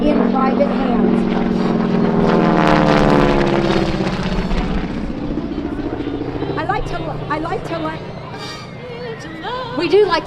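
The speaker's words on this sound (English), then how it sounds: "We do like to let the sound of that engine go by in front of the crowd" AT-6 Texan warbird's radial engine and propeller roaring past an airshow crowd, loud and near at first with a swelling buzzing drone that fades as it moves away, while people chatter and talk nearby.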